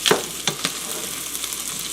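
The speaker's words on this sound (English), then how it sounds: "we're going to start our cabbage. I like to make sure every piece is caramelized" Cabbage frying and caramelizing in a pan, a soft steady sizzle with a few sharp crackles and stirring scrapes near the start.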